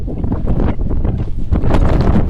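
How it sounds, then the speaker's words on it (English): Strong gusty wind buffeting the microphone outdoors beside a 2020 Chevrolet Tahoe Premier in loud, uneven bursts, roaring and rumbling with no voices. "it's getting really windy out here"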